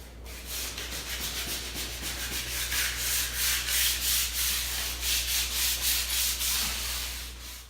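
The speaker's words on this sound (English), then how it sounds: "So this will scuff the surface, smooth out any imperfections" Dry sandpaper scrubs steadily by hand across painted wooden window trim, close and continuous with a regular back-and-forth rhythm over a faint low hum.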